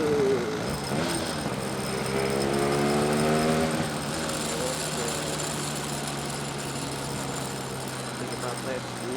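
A Yamaha RX King two-stroke motorcycle engine runs close by, first revving up with a rising whine, then settling into a steady, buzzing idle that holds to the end.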